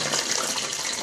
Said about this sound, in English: you will hear droplets of water, and this is the sound you're gonna get